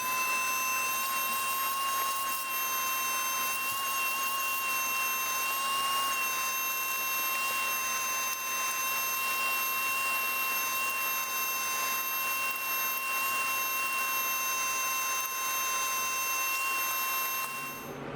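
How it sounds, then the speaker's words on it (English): Shop vacuum running steadily to suck dirt and debris off the engine of a Planet Jr. HT tractor under repair, a continuous loud whine with a steady high pitched tone throughout, no talking. "So we'll grab the vacuum, get that cleaned up."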